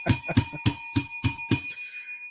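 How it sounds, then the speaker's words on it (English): A small metal desk bell struck six times in quick succession, bright ringing tones, the final strike decaying into a clean fading ring. "Let's ring the bell."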